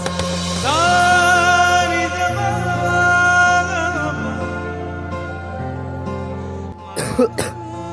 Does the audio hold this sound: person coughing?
yes